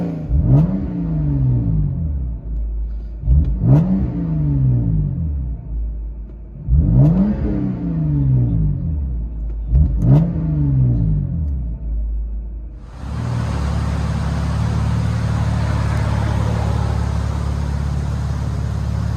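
A 2010 BMW 128i exhaust fitted with a Cherry Bomb glass pack revs four times in a row, each throaty rise and fall close and loud, then settles into a sustained steady rumble.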